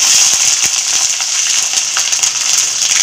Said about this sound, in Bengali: তেল গরম হয়ে গেছে, লঙ্কা দিয়ে দিচ্ছি, শুকনো লঙ্কা, গোটা রসুন